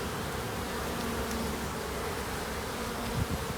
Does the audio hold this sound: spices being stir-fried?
no